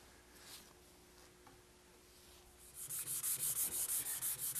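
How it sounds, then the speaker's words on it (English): A white oak vanity is sanded with 320 grit wet/dry sandpaper: faint quiet rubbing at first, then a run of steady, rhythmic back-and-forth strokes that grow louder and close. "I've sanded the entire case with some 320 grit wet dry sandpaper"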